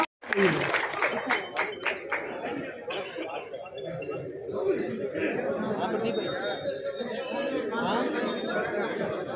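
A crowd applauds to welcome the next speaker at a BJP candidate's election office inauguration in Bhadra, clapping and chatter mixing with laughter after an opening thump, continuous and fairly loud.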